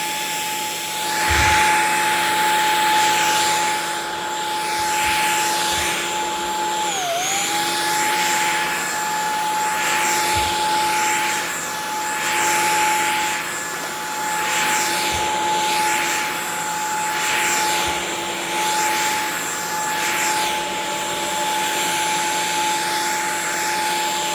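A Shark stick vacuum cleaner runs on a rug with a loud, continuous motor whine that holds steady except for one brief dip in pitch, with light bumps as the head moves.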